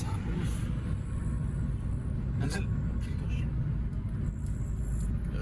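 Inside a moving vehicle on an Alpine road, a steady loud engine and road rumble fills the cabin while another vehicle overtakes, with faint brief hisses over the drone.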